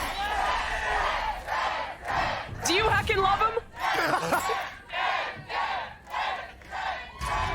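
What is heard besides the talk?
esports arena crowd chanting a player's name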